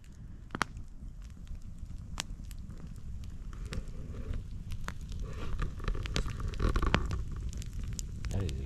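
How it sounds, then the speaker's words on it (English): A wood campfire burns outdoors on a clear winter day at New Year, giving a steady crackle with sharp pops scattered throughout and a gentle rise in intensity near the end, with no talk. "That is a good campfire."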